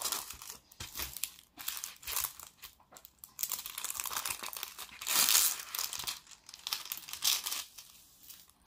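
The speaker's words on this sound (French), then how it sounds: "il faut aplatir la toile pour remettre le papier" Paper being crinkled and shifted while it is repositioned on a stretched canvas, with irregular close-up rustling and crumpling throughout and a louder burst of crackling midway.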